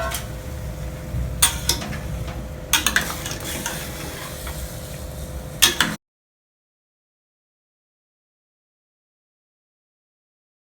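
Lean meat sizzling and being stirred in a hot pan, a steady frying hiss with occasional utensil clinks and scrapes for about six seconds, then silence.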